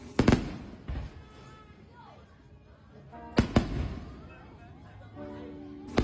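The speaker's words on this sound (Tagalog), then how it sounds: "kasalukuyan pong nanonood po kami ng fireworks" Fireworks burst during a New Year celebration at the neighbours' home in Batangas, two loud sharp explosions about three seconds apart with crackling and whistling between them, and voices talk in the background.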